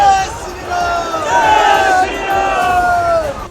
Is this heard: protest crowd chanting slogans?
yes